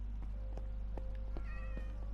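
Cat meowing in the Minecraft video game: several short, fairly loud meows repeat at irregular intervals over a steady low game hum, with no talking.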